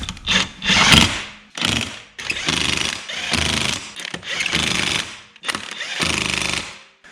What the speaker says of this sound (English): the attack wrench has got the wrong socket on